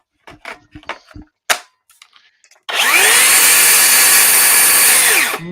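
Ridgid brushless hammer drill running on a 3.5 Ah battery: a handful of sharp clicks and trigger taps, then a loud sustained motor whine that spins up fast and holds steady up close before easing off.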